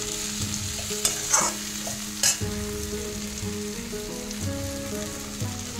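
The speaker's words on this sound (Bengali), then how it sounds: "এইবারে আমি একটু জল দেবো।" Water is poured into a pan of frying potato and bitter gourd for a tangra fish shukto, setting off sharp bursts of sizzle over a quieter ongoing crackle of frying.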